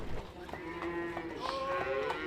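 Cattle lowing at a huge Argentine livestock market, several overlapping long moos, some near and some farther off, over a busy background murmur.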